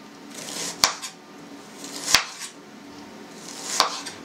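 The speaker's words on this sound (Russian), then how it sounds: "Нарежем весь лучок" A knife chops onion on a cutting board for a kubdari meat filling, giving three sharp, spaced knocks with soft kitchen rustle between them.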